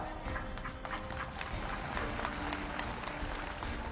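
Steady applause from a large crowd at a political rally in Hardoi runs unbroken throughout, a dense, even roar of clapping heard from within the audience.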